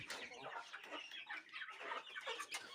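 Chickens and young chicks cluck and peep in a dense, overlapping chorus close by, steady for the whole stretch with no one speaking.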